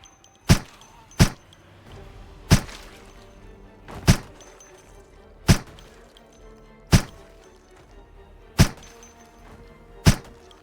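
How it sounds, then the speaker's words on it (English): Suppressed grease gun in the Project Zomboid video game firing about eight muffled single shots at uneven intervals, each a sharp thunk with a short tail and quiet gaps between. "let's test out this grease gun and the silencer"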